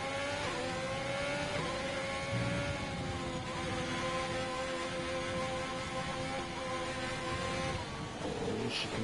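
A Formula 1 race car engine in the F1 2020 video game on the Chinese Grand Prix circuit, a high revving whine rising and easing with throttle changes, steady and loud throughout with no talk.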